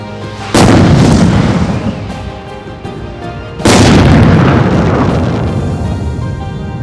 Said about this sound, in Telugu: పెద్ద బాంబు పెట్టాలి రా